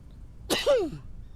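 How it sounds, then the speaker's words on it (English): A single short sneeze from a character in the video game Quarantine Zone, a quick burst followed by a falling vocal tail, fairly faint against a quiet background. "Did you just sneeze on me?"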